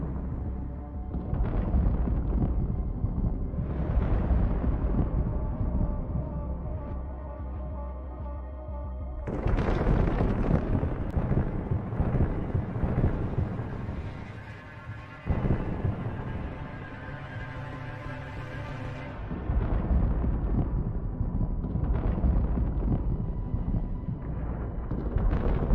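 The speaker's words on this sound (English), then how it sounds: "The struck Buratino resembles a searing fireball, exploding and releasing fiery shrapnel all around." Russian TOS-1 Buratino thermobaric multiple rocket launcher struck by an anti-tank missile, its onboard munitions detonating in a long roaring fireball, with repeated booming bursts and crackling blasts surging and fading over about twenty-five seconds.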